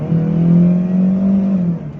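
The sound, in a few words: Chery Tiggo 2 engine noise heard inside the cabin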